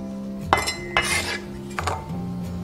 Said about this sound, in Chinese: 大蒜切片， 一小块生姜切片。